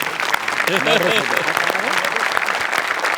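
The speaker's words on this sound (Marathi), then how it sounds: "यासाठी जोरदार टाळ्या झाल्या पाहिजे" Studio audience at a Marathi comedy show bursts into loud, sustained applause, dense clapping filling the room, with a voice speaking briefly over it.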